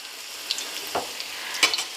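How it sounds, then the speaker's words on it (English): An egg foo young patty fries undisturbed in a pan, giving a steady close sizzle with a few small crackles and pops, no voices. "And you're going to let that fry."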